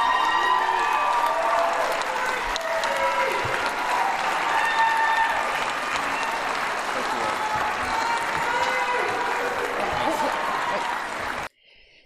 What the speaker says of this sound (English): Please go ahead and applaud now.